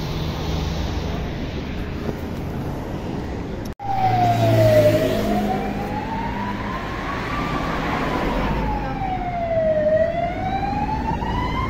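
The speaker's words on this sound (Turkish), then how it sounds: "Ambulans geçiyor. Yok, polis." A police car siren wails past on a street in Spain, its long rising and falling tone sweeping up and down over steady traffic noise, loud and near after a brief cut.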